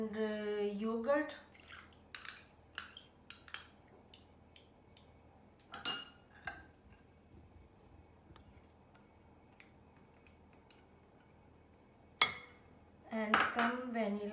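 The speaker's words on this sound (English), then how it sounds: "in my other bowl I will mix my sugar and yogurt" Sugar and yogurt being mixed in a bowl for an eggless orange semolina cake: scattered light clinks and taps of a utensil against the bowl, quiet and close, with pauses between strokes and a voice briefly heard.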